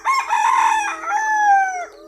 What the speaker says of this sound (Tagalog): Hello, make some noise chicken.